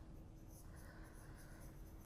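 Colored pencil making little quick strokes on paper, a faint steady scratchy rasp close by, continuous and soft.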